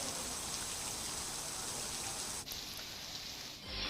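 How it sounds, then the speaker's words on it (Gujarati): Unseasonal rain falls in the desert-edge area of Kutch, Gujarat, as a dense, steady hiss of close, heavy downpour that continues without a break, with a brief dip near the end and no voices. "તો રણકાંધી વિસ્તારમાં આ કમોસમી વરસાદ આપ જોઈ રહ્યા છો"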